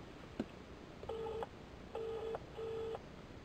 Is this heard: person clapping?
no